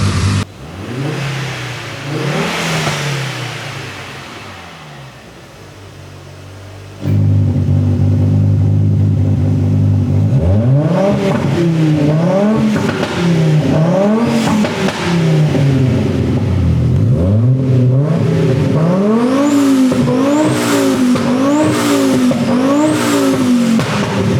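An Audi 80 with a turbocharged 2.2-litre five-cylinder engine, heard loud and close: a lower steady run at first, then repeated rising and falling revs in quick succession as it accelerates hard, with no talk.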